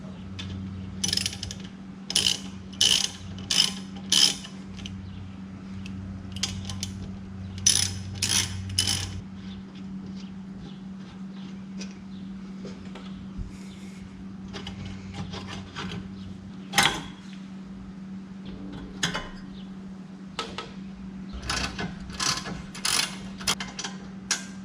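Ratchet wrench clicking in repeated bursts while loosening the 17 mm caliper bracket bolts on a Suzuki Cappuccino's brakes, close and loud, with a steady hum underneath.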